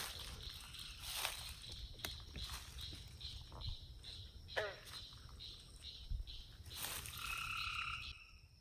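Green frogs croak at night amid a steady chorus of crickets and insects, with a few soft rustles and knocks nearby.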